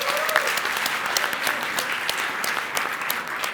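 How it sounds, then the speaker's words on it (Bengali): Studio audience at a talk show gives a loud, sustained round of applause, dense and even throughout, with no talk over it. "সবাই জোরে একটা তালি দিই ফর দম"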